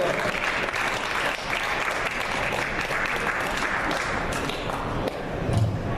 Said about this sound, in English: clapping before I've even got on stage